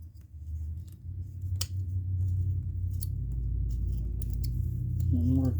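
Knife carving a wooden box turtle, with sharp, scattered scraping cuts over a low steady hum, close by and irregularly spaced, and a voice briefly heard at the end.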